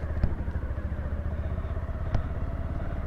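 A motorcycle engine idles steadily with a low rumble as a learner eases the clutch out to pull away, with two brief clunks near the start and after two seconds.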